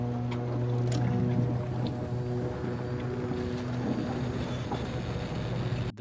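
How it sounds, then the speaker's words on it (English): A boat motor in A Quiet Place: The Road Ahead video game runs as a steady, low droning hum, close and continuous with faint water wash over it and no voices. "This is the quietest boat I've ever heard."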